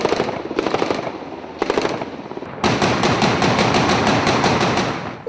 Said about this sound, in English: backed up by a final volley of helicopter gunfire.